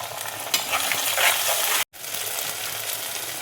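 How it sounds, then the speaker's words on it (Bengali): Ground spice paste and spice-rinsing water tipped into onions frying in a pan, a loud steady sizzle and bubbling hiss with stirring, briefly cut off for a moment before resuming. "এবার আমি বাটা মশলাটা দেখো দিয়ে দিচ্ছি, মশলা ধোয়া জলটা দেখো দিয়ে দিচ্ছি"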